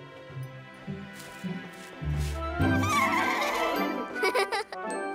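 Cartoon sky horses neigh and whinny in the Cloudbabies animated series, loud and close, with several whinnies running into one another alongside faint voices.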